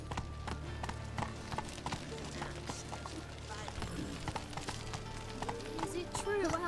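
Roach the horse gallops in The Witcher 3, her hooves thudding in a quick, rhythmic clip-clop close at hand, mixed with game effects and occasional talk.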